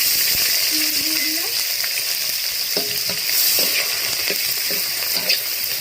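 Sliced onion sizzling and frying in hot oil for mutton kosha, a steady dense crackle with occasional stirring scrapes and clinks throughout, close and loud, no talking.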